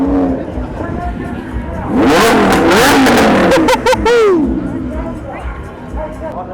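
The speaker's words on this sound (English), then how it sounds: "So we got some supercars launching off the line here." Loud supercar engines roar and rev hard as the cars launch off the line at a UK supercar event, a burst of overlapping revving that swells then fades, with crowd chatter in the background.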